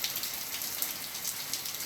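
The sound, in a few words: rain falling outdoors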